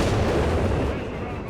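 Bishop self-propelled artillery firing in Company of Heroes 3 during a WWII Italy battle, a dense, rumbling barrage of booms filling the whole moment, loud and continuous with a muffled low-end roar.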